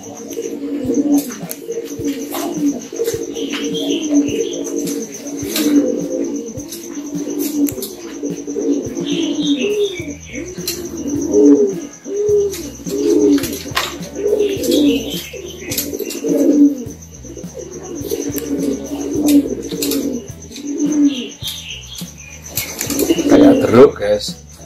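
Pigeons coo repeatedly in low, rolling phrases close by, mingled with occasional chirps and wing flaps, with people talking intermittently in the background.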